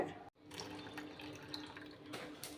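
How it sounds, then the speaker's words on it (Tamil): Water runs and splashes briefly into a mixer jar, a close, steady trickling pour with a short break near the start. "மிக்சியில் கொஞ்சம் தண்ணி கலக்கி ஆட் பண்ணிக்கோங்க"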